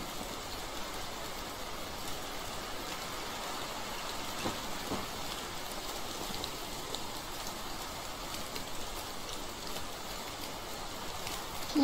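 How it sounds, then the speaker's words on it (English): Rain falling in the Medieval Dynasty video game, a steady soft hiss of rainfall on surfaces with faint patter, continuous and quiet with no other clear sounds. "it's raining right now in the game"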